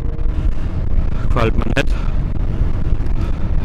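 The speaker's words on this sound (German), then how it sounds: "Wind wird heftiger." Strong wind buffets the microphone on an outdoor bike tour, a loud, constant low roar and rumble, with someone speaking briefly over it.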